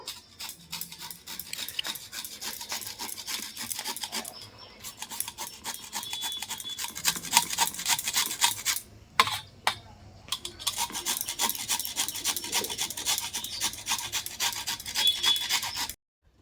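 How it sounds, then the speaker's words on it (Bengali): Fresh carrots rubbed against a hand grater in a home kitchen, a steady rhythmic rasping scrape repeated in quick strokes for several seconds, with a couple of brief pauses, close and fairly loud, no talking. "একইভাবে আমি সব গাজরগুলো কিন্তু গ্রেটার দিয়ে গ্রেট করে নেব"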